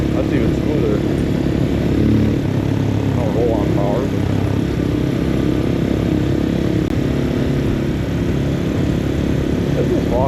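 A Papio SS mini-moto with a small single-cylinder engine runs steadily at speed, a loud continuous buzzing drone with a brief pitch change as it shifts up a gear, with a rider talking over it.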